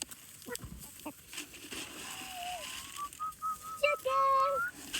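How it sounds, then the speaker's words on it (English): Farm chickens being fed cluck and chirp in short bursts, fairly close, under a steady outdoor hum, with a few higher whistling calls toward the end. "Chickens, come on."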